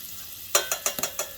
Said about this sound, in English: I got some butter going in